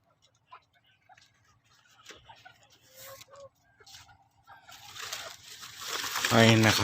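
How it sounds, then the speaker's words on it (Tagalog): Free-range chickens on a cacao plantation cluck softly in short scattered calls, close by. Someone talks over them, and a louder burst of noise builds toward the end. "Ayun, sinusundan tayo ng mga manok."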